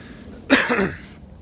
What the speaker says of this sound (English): Excuse me, I'm still got a cough